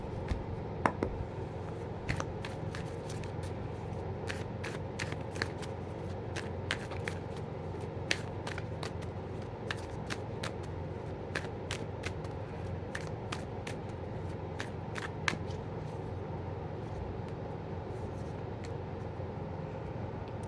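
Tarot cards shuffled continuously by hand, a soft papery riffle with frequent sharp snaps and flicks scattered across a steady low background hum, close up and without speech.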